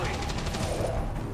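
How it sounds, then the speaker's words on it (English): Enemy gunfire in XCOM 2 rattles in a dense, continuous volley of rapid shots at moderate loudness, filling the whole moment without pause. "Now they're gonna shoot."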